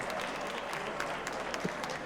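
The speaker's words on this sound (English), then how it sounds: "Let's hear some applause in here tonight." Audience applause at a community event, a dense, steady wash of many hands clapping at moderate loudness throughout, with a few brief louder claps standing out.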